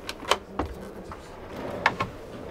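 A few short thuds and clicks of a self-closing drawer in a Challenger 240 camper van interior, soft slides ending in quick knocks, close by with no talking.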